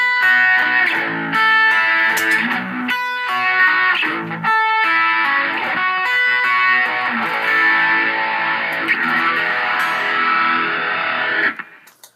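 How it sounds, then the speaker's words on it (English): Electric guitar driven through a GDI-21 pedal set for heavier distortion, loud and close, with choppy chord stabs early on giving way to long sustained overdriven ringing before a sudden stop. "let's go to that GDI-21, a little heavier distortion."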